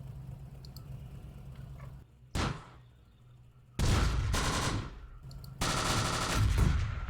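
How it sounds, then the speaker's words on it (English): Bursts of machine-gun and rifle fire from a World War II tactical combat game, a sharp single report followed by long, dense automatic volleys, loud and close with brief quiet gaps between them. "with that last shot here, let's adjust fire over to here"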